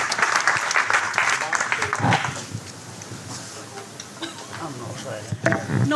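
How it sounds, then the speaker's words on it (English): Applause from a morning audience welcoming a speaker, bursts of clapping that thin out to scattered claps and room noise, with a voice talking partway through. "Please give a round of applause for Sue Sambells."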